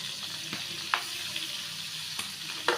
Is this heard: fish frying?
yes